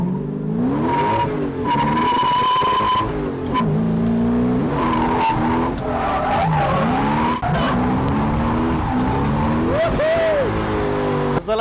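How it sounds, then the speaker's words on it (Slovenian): A drift car skids with its tires smoking at a hillclimb drift event, the loud engine revving and tires squealing continuously with wavering pitch, close and intense throughout. "Zdaj sva pa dobro zadimila,"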